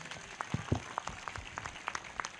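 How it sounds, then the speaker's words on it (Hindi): Scattered hand claps sound from a church congregation in a reverberant space, uneven and fairly soft, over a low background murmur. "ताली बजाकर ताली बजाकर ताली बजाकर"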